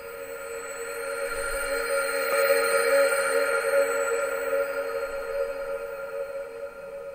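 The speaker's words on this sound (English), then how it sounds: "So here I have a sample in A sharp" A high-end atmospheric sound design pad sample pitched in A sharp holds steady tonal layers with a soft airy shimmer, swelling gently in the middle and sustaining evenly throughout, with no voices.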